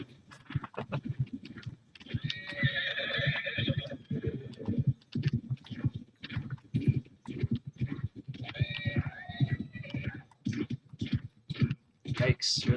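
A horse neighs twice in a medieval crusader battle game, the whinnies rising over game effects, hoofbeats and several people talking throughout.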